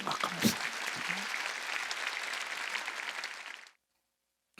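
A church congregation at a Sunday service claps together, a dense burst of applause rising with a loud voice at the start, holding steady, then cutting off abruptly into silence.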